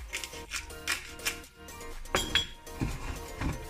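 A spoon clinks repeatedly against a bowl while stirring yogurt sauce dressed with olive oil, pepper and salt, giving close, irregular metallic taps and scrapes.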